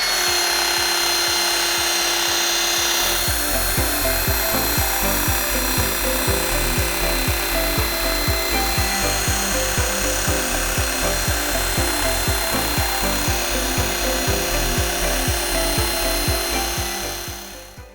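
A belt grinder runs continuously with a harsh, rasping hiss as a carbon steel knife blade is pressed against the belt for sharpening, steady and loud throughout before winding down at the end.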